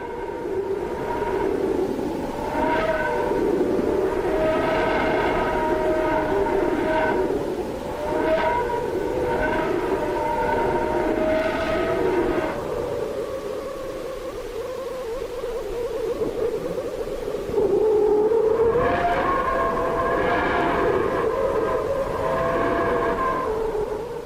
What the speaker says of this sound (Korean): 방금 들으신 잡음과 휘파람 소리는 태양의 얇은 외부층에서 방출된 태양풍의 뜨거운 입자들의 압력 파동입니다